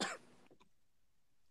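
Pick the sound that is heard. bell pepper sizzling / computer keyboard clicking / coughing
coughing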